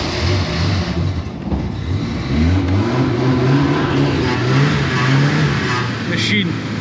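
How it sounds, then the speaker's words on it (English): An old Suzuki engine runs and revs close up, a loud, steady mid-pitched drone that rises and falls in pitch through the throttle, with a voice now and then over the noise. "the old Suzuki. She should start first turn of the key, because she's a honey."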